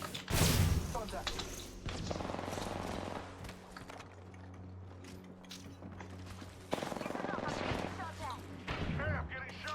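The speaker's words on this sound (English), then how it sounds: "I'm getting shot." Video game gunfire: sharp bursts of shots and mechanical clicks up close, loud at the start and again near the end, with people talking over the action.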